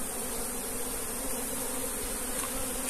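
An Africanized honeybee swarm buzzing inside a hive, a dense, steady close-up drone of many wings that holds without a break.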